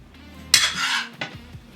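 Utensils clatter against a plate and pan as wild turkey stir fry is served over rice, with a sharp metallic scrape followed by a second shorter clink, close and brief.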